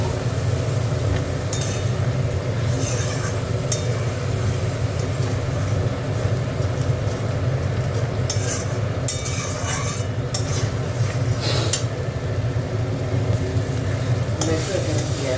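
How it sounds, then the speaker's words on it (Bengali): Onions sautéing in a pan with a little water added, a loud steady sizzle and hiss with stirring scrapes running throughout, close and continuous. "দেখো একটু জল দিয়ে কষবো।"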